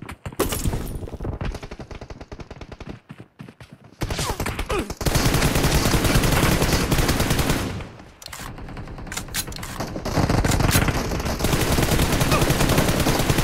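Dense, continuous automatic gunfire rattles close and loud through a team deathmatch on the Santorini map, with rapid bursts running almost unbroken and only a few brief pauses.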